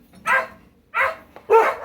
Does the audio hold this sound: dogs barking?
yes